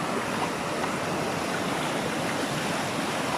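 Wading through water on a Scottish croft farm, sloshing steadily and loudly all the way through, a dense constant rush that sounds like a flowing stream.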